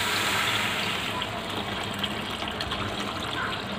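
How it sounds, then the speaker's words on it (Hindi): Water pours steadily and loudly into a pot of roasted lentils and rice for khichdi, a continuous gushing, splashing flow that runs throughout without pause. "अब इसमें हम डालेंगे ये भुना हुआ दाल, इसमें डालेंगे पानी"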